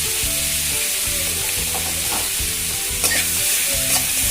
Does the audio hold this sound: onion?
yes